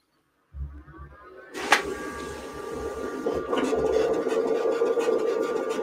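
A CAD-CUT vinyl cutting machine slices UltraWeed material, starting after a half-second pause with a low motor hum, then a sharp click and a steady, rising scratchy whir of the blade carriage that continues to the end.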